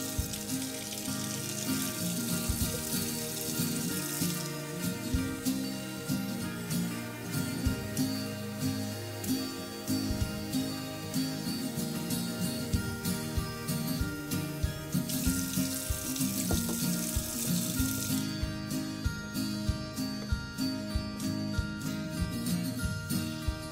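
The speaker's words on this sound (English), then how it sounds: "Otherwise, heat the bottle using warm tap water." Warm tap water runs steadily into a sink to heat a baby bottle, a continuous splashing hiss that keeps an even level throughout with slight shifts in the stream's texture, and no one speaks.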